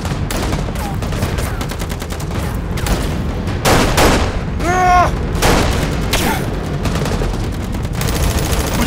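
Rapid gunfire bursts in a battle scene from a Turkish drama dubbed into Hindi-Urdu, loud and dense with repeated shots and booms over a roaring background and a brief whistling effect.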